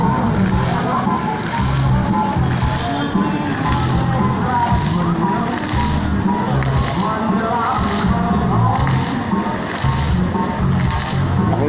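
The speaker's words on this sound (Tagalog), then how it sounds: "yung tunog ng tubig" Water runs steadily through a drainage canal on Araw ni Bonifacio, a continuous sloshing rush that stays loud and close throughout, with music and possible voices blending in underneath.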